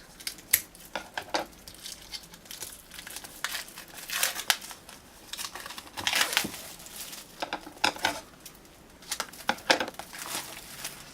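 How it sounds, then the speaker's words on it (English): A package is unwrapped up close: crinkly plastic and paper crumple and tear in irregular bursts with short pauses, loud and near, no talking. "So let me unwrap this."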